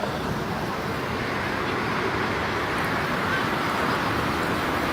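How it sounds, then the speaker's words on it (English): Steady road traffic rolling past on a street in Amstelveen, heard from a bicycle as a continuous broadband rumble and hiss with light wind, holding an even, fairly loud level throughout with no clear gaps between vehicles. "as soon as the cars come, it's loud again"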